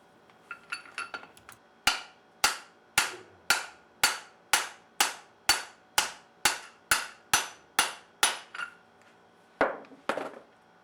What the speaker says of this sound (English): I drove the pulley wheel side bearing, the larger one, in with a socket that was a good fit with the inner race